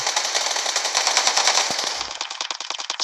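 Rapid bursts of submachine gun fire from a Vector in a video game, loud and close, with a steady rattling rhythm that briefly pauses and resumes as choppier, separated shots.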